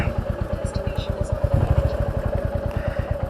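A motorbike engine idles close by with a steady, rapid low thrum and faint clatter, running continuously while it is parked in the shade at Gaitor ki Chhatriyan in Jaipur.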